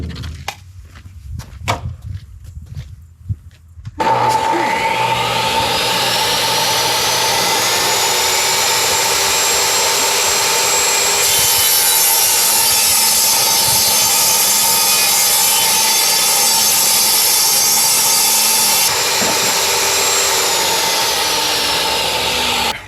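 Saw blade cutting a wooden board for a budget pantry build, a steady loud rasping whine that starts after a few seconds of quieter handling noise and holds evenly to the end, with no talking.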